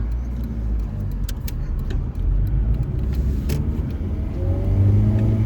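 A 1990s Ford Fiesta Mark IV engine hums steadily while driving, a low rumble with rising revs near the end, heard from inside the cabin.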